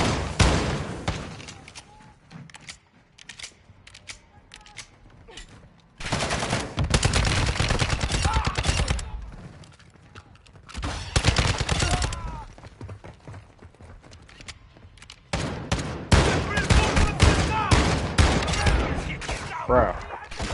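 Rapid automatic gunfire in the DMZ video game, in dense repeated bursts separated by quieter stretches, loud and close.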